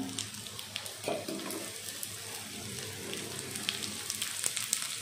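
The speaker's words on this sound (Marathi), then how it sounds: "ती आपल्याला छान खरपूस अशी तळून घ्यायची आहे." Patra vadi (colocasia leaf rolls) shallow-frying in a little oil on a hot tava, giving a steady soft sizzle with scattered crackles and pops, close and moderately loud, with no talking.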